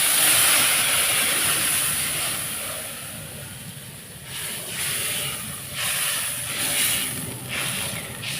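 Water poured into a hot pan of mustard and ginger paste while cooking koi fish, a loud steady hiss that eases off, then bubbling surges in brief bursts, with no talk.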